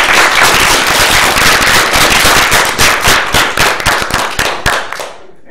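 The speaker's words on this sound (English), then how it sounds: "so give him a round of applause." An audience at a workshop for Chinese judges breaks into loud applause, a dense burst of many hands clapping that thins out and fades near the end.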